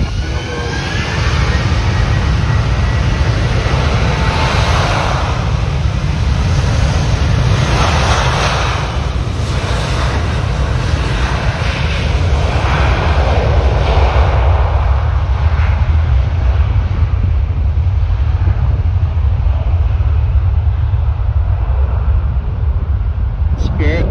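A Spirit Airlines airliner lining up on runway 10R at Fort Lauderdale gives off a broad, steady roar of jet engines, mixed with wind and a voice talking over it throughout.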